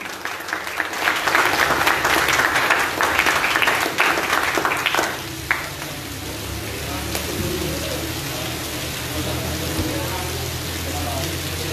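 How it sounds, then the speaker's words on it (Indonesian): An audience at a talk show applauds a guest, dense clapping that fills the first half then thins into a softer patter and fades, a voice murmuring beneath toward the end. "boleh minta tepuk tangan yang meriah untuk Kak Yusuf"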